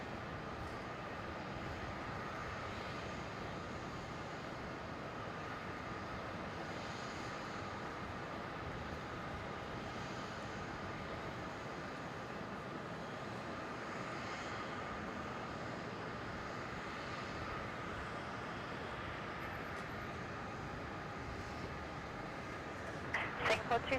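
A 9.5-year-old Boeing 787 Dreamliner on the runway at Melbourne Airport gives a steady, distant jet roar that stays even throughout, under intermittent air-traffic radio voices.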